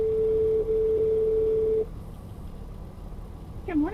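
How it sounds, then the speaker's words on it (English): A telephone call tone sounds while dialing a Honda dealership: a steady continuous tone broken by brief dips, then it stops, followed by line hiss and a faint click-like blip. "we are dialing into the store"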